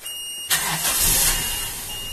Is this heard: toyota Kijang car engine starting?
yes